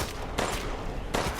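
Two sharp bursts of gunfire ring out in Resident Evil Village, loud and close, separated by a short gap.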